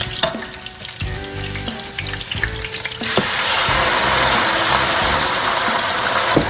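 Onion frying in vegetable oil, starting with scattered crackles and pops, then a loud, steady sizzle once the onion hits the hot oil, close up with no talk.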